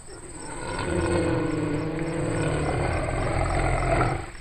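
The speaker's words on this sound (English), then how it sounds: "That's a moose growling at these wolves to intimidate them." A moose growls low and steady at nearby wolves, a sustained rumbling drone very close to the microphone, with a faint high insect-like whine running throughout.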